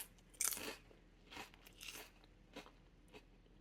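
Someone bites into a thin, crispy fried egg white chip: one sharp, loud crunch followed by a few softer crunching chews, close up with no talk.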